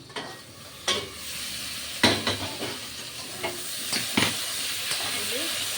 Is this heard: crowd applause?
no